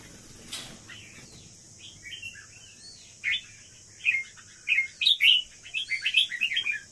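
Pet birds kept as breeding pairs chirp and tweet in short bright bursts, sparse at first and then quicker and livelier, near and clear over a faint steady background hiss.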